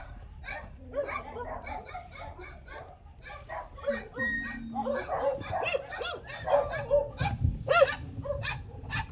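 Several dogs bark and yip in excited bursts nearby at night on a farm in Amadeo, Cavite, with people talking over the noise.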